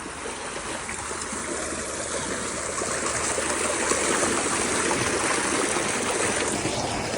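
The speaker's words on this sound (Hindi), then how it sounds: "ट्यूबवेल चल भी रहा है और पानी भी लग रहा है" Water from a running tubewell in a Punjab, Pakistan village gushes and splashes steadily, a loud broad rushing flow that builds slightly and holds constant, with no talking.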